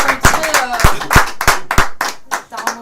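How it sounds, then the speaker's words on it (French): A small concert audience claps in a sparse, uneven patter of individual handclaps, close and fairly loud, with a voice talking over it. "Merci d'avoir applaudi"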